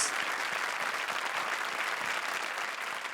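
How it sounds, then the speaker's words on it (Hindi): A studio audience at a TV comedy show claps loudly and steadily, a dense unbroken wash of applause lasting the whole stretch with no voices standing out. "एक बार फिर जोरदार तालियां फॉर जूही एंड वीआईपी"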